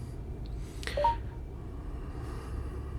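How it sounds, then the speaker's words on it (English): Keypad dialing tones from the 2022 Ford Maverick infotainment touchscreen: a few short, quiet beeps close together over a faint background hum. "Your keypad will allow you to be able to dial just right on your screen here"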